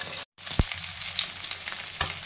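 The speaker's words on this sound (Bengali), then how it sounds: "চাপা দিয়ে ভেজে নিচ্ছি মাছটা।" Folui fish frying in hot oil under a lid, a steady broadband sizzle with a brief dropout near the start and a couple of sharper pops or spatters.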